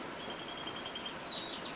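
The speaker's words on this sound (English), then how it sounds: "These birds, obviously you can hear them now, they're singing their heads off" Caged birds in a birdroom sing constantly, a faint, steady stream of high, overlapping chirps and trills with no talking.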